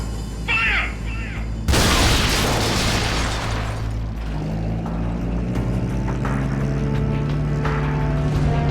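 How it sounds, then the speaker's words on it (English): A main cannon fires in the video game Metal Gear Solid Peace Walker, a sudden loud booming blast that cuts in abruptly and rolls into a long, rumbling mechanical roar sustained for several seconds. "Main cannon ready to fire!"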